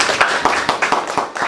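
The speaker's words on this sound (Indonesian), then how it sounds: "Kita beri tepuk tangan ya." Audience in a classroom clapping after a student group's linear algebra poster presentation, a brief patter of several hands with a few sharper claps standing out, fairly close, no talk over it.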